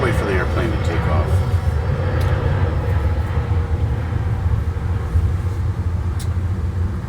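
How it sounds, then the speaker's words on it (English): An airplane engine roars in a steady, loud, low rumble that holds throughout while taking off nearby, heard from a workshop where a 1970 Dodge Charger replica is being restored. "I'll just wait for the airplane to take off."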